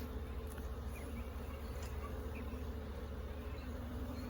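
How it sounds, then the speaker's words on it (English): Honey bees hum around an open single-brood-chamber hive on a June afternoon, a continuous soft buzzing drone with a few individual bees passing nearby. "So a lot of bees should be out."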